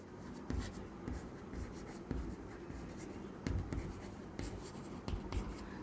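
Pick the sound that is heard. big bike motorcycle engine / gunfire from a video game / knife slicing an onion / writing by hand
writing by hand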